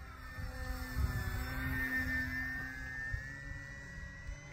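An FMS 1200mm CJ6 RC model airplane runs at about quarter throttle, producing a steady electric whine and whir with shifting pitch, fairly close and continuous throughout.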